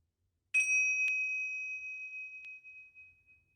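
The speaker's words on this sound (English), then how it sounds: "And when you hear the bell, we can finish." A meditation bell is struck once and its clear, pure tone rings out and slowly fades, with a softer second tap partway through the long decay, in an otherwise quiet room.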